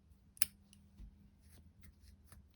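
Scissors snip through crochet yarn at the end of a round, a single sharp close cut followed by faint handling rustles, quiet and alone.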